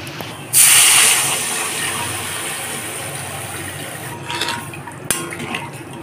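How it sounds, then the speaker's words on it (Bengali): Water poured into a pan of sautéed potato curry for Bengali dhokar dalna, a loud rushing hiss with a sudden onset that settles into a steady simmering fizz, then fades with a few clinks near the end. "এখন এর মধ্যে জল অ্যাড করব"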